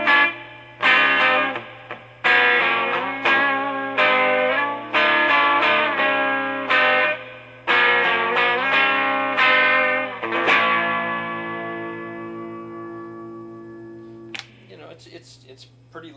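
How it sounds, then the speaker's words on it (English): A Fender Blues Junior guitar amp with reverb set around 5 rings out with strummed chords and picked notes, each decaying into a lush wash, then a long sustained chord fades over a steady low hum. "Right now the reverb's only on 2, but I'm going to bring that bad boy up to about 5 here"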